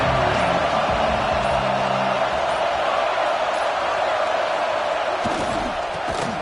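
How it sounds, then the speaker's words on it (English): A packed football stadium crowd roars steadily to keep the opposing offense pinned deep in its own end, a dense, loud, unbroken wall of cheering and yelling that holds for the whole stretch with only slight swells. "They've got him pinned deep in their own end, and this crowd trying to help keep them there."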